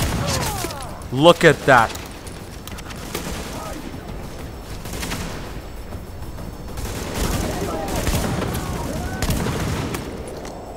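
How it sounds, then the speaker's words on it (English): Shotgun blasts and gunfire in The Division during a fight in Amherst's Apartment, a sharp loud burst near the start followed by scattered shots and combat noise, with someone talking over it. "I've also equipped a shotgun with me"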